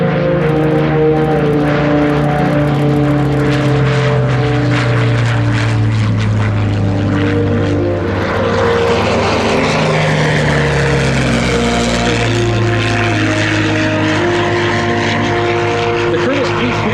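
Piston-engined Hawker Hurricane and Curtiss P-40 fighters fly past with a loud, continuous propeller drone whose pitch slides and swells through the pass, with no talk.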